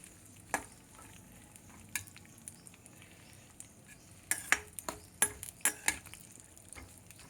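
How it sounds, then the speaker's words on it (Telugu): Ingredients including condensed milk frying gently on a low flame in a pan, a soft quiet sizzle under a few light metallic stirring clicks and scrapes that cluster toward the end. "సిమ్లో పెట్టి వేయించుకోవాలి."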